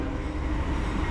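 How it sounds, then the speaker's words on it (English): CSX freight train B301 rolls along the Tampa bypass track toward the yard office, a steady low rumble close by with no voices. "I found train B301 rolling down the Tampa bypass track to tie down at the yard office."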